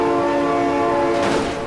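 Train horn in BeamNG Drive, a loud steady multi-tone blast held close for well over a second, fading into rumbling and clatter at the end.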